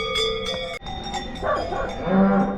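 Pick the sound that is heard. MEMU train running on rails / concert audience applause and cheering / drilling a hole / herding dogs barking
herding dogs barking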